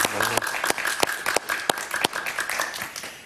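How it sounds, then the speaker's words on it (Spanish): A studio audience at a political talk show applauds, a burst of dense, close clapping with sharp individual claps that fades somewhat over a few seconds. "Un aplauso para él, por favor."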